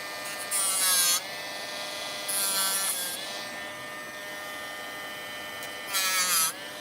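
A Dremel Lite rotary tool with a sanding attachment whines in three short high-pitched bursts of sanding on paper craft work, with a steady motor hum between them and no talk.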